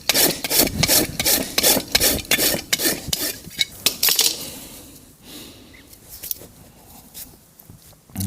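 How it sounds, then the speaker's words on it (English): A Bellota Top Sharp rasp filing a horse's hoof during trimming and shoeing, close rhythmic scraping strokes, about a dozen quick passes that thin out into quieter, sparser rubs. "I do a lot of rasping."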